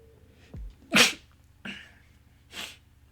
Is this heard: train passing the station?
no